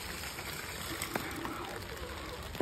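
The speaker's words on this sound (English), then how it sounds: "There we go, it's raining" Rain falls in a steady, soft patter close by, with a slightly louder knock right at the end.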